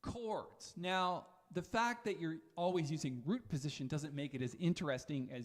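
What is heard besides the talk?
No distinct noise like a dog, phone or traffic.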